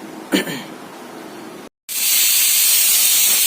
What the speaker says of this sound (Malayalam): കുക്കർ ഇപ്പോൾ മൂന്ന് വിസിലടിച്ചു കഴിഞ്ഞ്